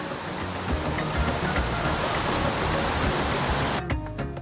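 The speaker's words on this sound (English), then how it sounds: "enjoy walking along trails by pristine mountain streams" A pristine mountain stream in the Tian Shan foothills rushes steadily and loudly, a dense broadband wash of flowing water close by.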